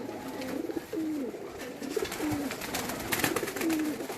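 Pigeons of Malik Younas coo in repeated soft, rolling phrases close by, with a few overlapping calls against light background noise.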